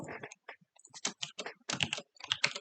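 Rapid keystrokes on a computer keyboard while code is typed, coming in uneven bursts of clicks with short pauses between them, close and clear with no talking.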